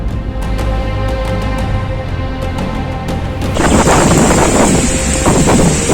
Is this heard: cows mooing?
no